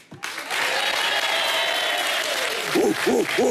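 Applause swells for a Freddy costume contestant at a Halloween party, sustained crowd clapping with a few hooting, owl-like calls near the end.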